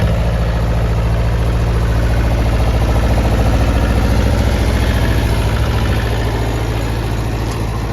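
A tractor engine idles close by with a steady, throbbing low rumble that stays constant and loud throughout, no speech.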